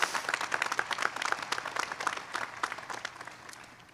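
Applause at a university undergraduate commencement ceremony, many hands clapping in a busy crackling stream from a large audience, slowly easing off toward the end with no talking.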